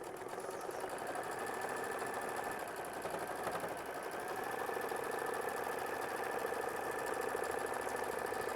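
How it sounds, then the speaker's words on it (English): A sewing machine stitches steadily without pause, sewing a heavy tack-down stitch on a quilt block, its motor whirring and needle pattering close and loud throughout. "go ahead and stitch it down with machine stitch step 24"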